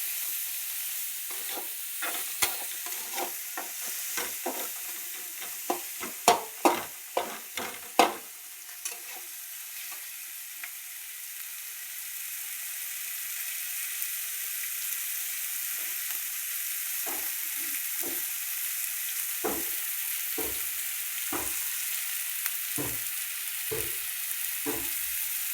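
Onion fries in a pan with a soft, steady sizzle, broken by bursts of sharp clicking stirs early on and again later, close but fairly quiet.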